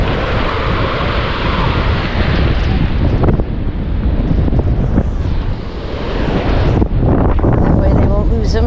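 Ocean waves washing onto a Gulf beach at Lido, a constant loud rush of surf mixed with heavy wind buffeting the microphone, with some voice faintly in the mix.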